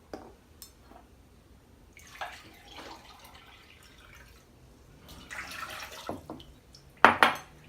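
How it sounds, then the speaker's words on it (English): Sugar and a cup of water go into a pot for cucumber lemonade syrup: soft pouring and trickling, light metallic clinks of the pot and utensils, and a sharp clank near the end. "I am going to start by adding my sugar and 1 cup of water."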